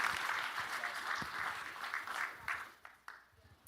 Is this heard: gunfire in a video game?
no